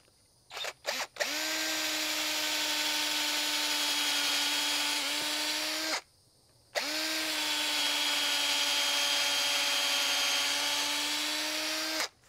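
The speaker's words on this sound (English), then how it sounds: "I go ahead and drill my holes" Power drill boring holes through two clamped wooden sawhorse legs, a couple of short starts followed by two long, loud, steady whirring runs separated by a brief pause, close up and without talking.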